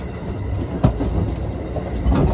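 Thunderbird limited express train running on a dedicated new track section near a Shinkansen transfer, heard from on board as a steady low rumble and rolling wheel noise with faint clicks, moderately loud and continuous, no talk.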